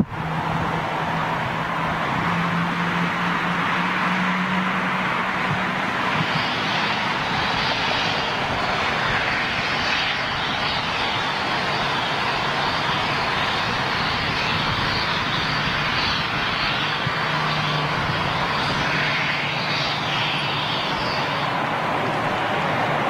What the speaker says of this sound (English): Thai Airways 777 on the pushback.